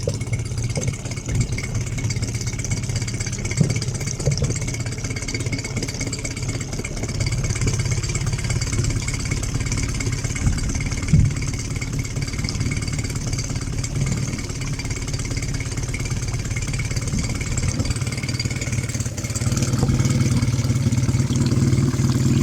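A Mercury 9.9 outboard motor runs steadily at idle, a continuous close mid-pitched engine drone with slight unevenness, swelling a little louder near the end.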